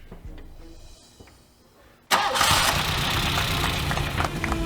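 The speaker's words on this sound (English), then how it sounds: "Okay, so the engine's running" A car engine cranks and catches after a timing adjustment on a rusty, low-mileage engine, jumping from quiet ticking to a loud, rough, steady idle close by.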